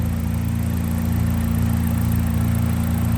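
A freshly rebuilt race car engine idles at first start-up, a steady, low rumble running evenly and close by, with a constant mechanical hum and no revving.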